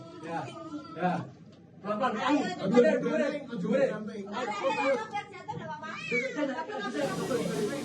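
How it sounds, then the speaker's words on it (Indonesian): A pet cat trapped above a house ceiling for five days meows among busy chatter and talk, its cries brief and partly masked by voices. "seekor kucing peliharaan dilaporkan terjebak di atas plafon rumah selama 5 hari dan tidak dapat turun sendiri"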